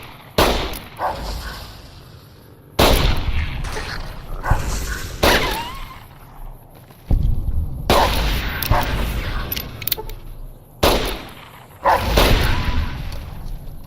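Gunfire in the modded Fallout New Vegas game: several sharp, loud shots and bursts in irregular clusters, each trailing into reverberant noise, with quieter game sound in the gaps between them.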